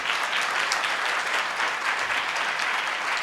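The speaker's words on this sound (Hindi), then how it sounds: "इतना काफ़ी नहीं है, और जोरदार ताली बजाएंगे।" A church congregation at a Sunday service claps loudly, a dense steady wash of many hands sustained evenly throughout with no talk over it.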